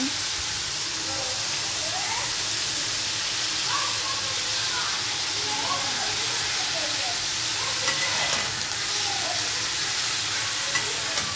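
Chopped potato frying with egg in a pan, a steady hissing sizzle with scraping and stirring sounds over it, close up, with faint speech now and then.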